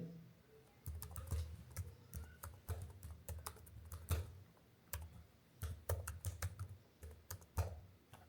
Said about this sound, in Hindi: इसके बाद हम अपना रिकवरी ईमेल इंटर करेंगे।